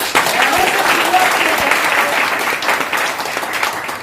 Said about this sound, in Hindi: ताली होनी चाहिए कि नहीं?